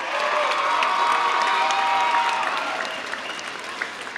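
A graduation crowd at Mound Street Academy claps steadily for students who earned Lean Six Sigma Green Belt credentials, with scattered cheers in a dense, even wash of applause that eases toward the end.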